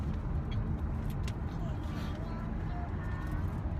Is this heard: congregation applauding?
no